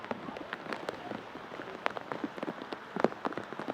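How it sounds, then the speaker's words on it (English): Rain falling on a lacrosse field on a cool, raw day during a girls varsity game, a steady soft patter broken by scattered sharp drops and taps, fairly faint and without talk. "And a rainy, cool, raw day here."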